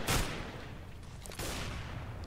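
Rapid bursts of gunfire from a Counter-Strike match on the de_mill map, a loud volley at the start and then a dense, sustained rattle of shots continuing to the end, with no voices.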